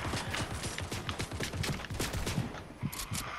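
Rapid bursts of video game gunfire, a dense fusillade of overlapping shots and automatic fire, loud and continuous throughout with no talk over it.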